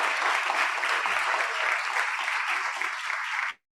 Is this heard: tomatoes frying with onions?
no